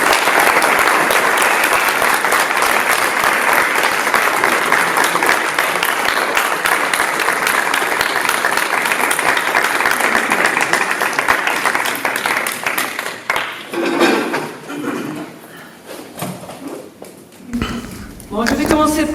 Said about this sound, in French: Moi je propose d'applaudir